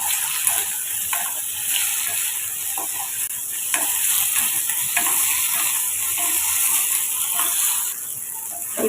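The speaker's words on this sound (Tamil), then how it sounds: "இப்போ நம்ம இதில் சோயாவை சேர்த்துக்கலாம் சேர்த்துட்டு இப்போ இதை நம்ம எண்ணெயில் நம்ம ஃப்ரை பண்ணி எடுத்துக்கலாம்" Soya chunks fry in hot oil for fried rice, giving a steady close sizzle broken by frequent scraping clicks of a spoon stirring the pan. No voices are heard.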